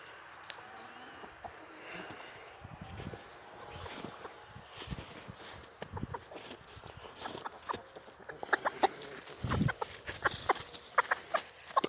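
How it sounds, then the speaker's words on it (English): A small flock of seven chickens, a rooster among them, out in snow after an Indiana snowstorm: scattered clucks and soft calls, with crunchy footsteps nearby that grow busier toward the end. "And there's just 1, 2, 3, 4, 5, 6, 7 chickens."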